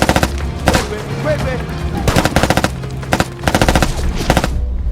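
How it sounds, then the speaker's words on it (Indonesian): Bursts of rapid machine-gun fire crackle loudly in repeated volleys during a film firefight in the African wilderness, with short pauses between salvos and faint voices underneath. "Saat baku tembak sedang berlangsung"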